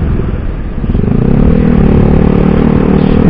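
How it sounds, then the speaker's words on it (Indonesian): A Yamaha R25 two-cylinder motorcycle engine revs loud and close, a steady throaty drone that rises in pitch and holds as the throttle is opened. "untuk suaranya ketika digeber kayak gini tuh menurut gua sih mirip-mirip suara 2 silindernya ini ya, R25"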